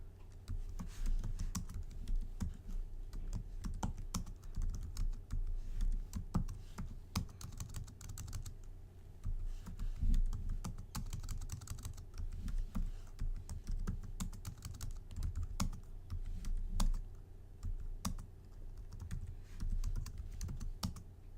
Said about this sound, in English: I'm going to write and execute the following code